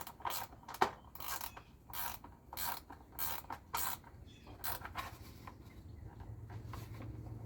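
A ratchet wrench clicks in short bursts while turning bolts on a Craftsman LT2000 riding mower, with quiet, close clattering strokes separated by brief pauses and a faint background hum.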